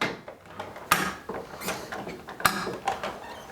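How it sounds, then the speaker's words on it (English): Plastic tabs on a printer's ink cartridge holder are pulled down, giving two sharp clicks among quieter small plastic rattles and creaks, close and fairly soft. "Pull the blue tabs down."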